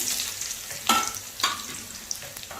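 Two big onions and four garlic cloves hit hot oil in a kadai for Andhra-style peanut sesame chutney, a loud hiss fading to a softer crackle, with a couple of stirring scrapes.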